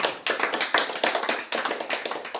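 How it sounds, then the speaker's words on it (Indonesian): Congregation applauding in a church service, dense rhythmic clapping from many hands in steady bursts, loud and close with no talking over it. "Tepuk tangan buat Tuhan Yesus."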